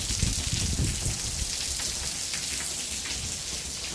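Heavy rain pours continuously onto a flooded driveway, a dense, steady hiss of drops with a splashy low rumble, close and loud, with no talking.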